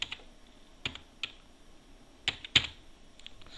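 Scattered keystrokes on a computer keyboard, a few sharp close clicks spaced irregularly over about three seconds against a quiet room, with no talk.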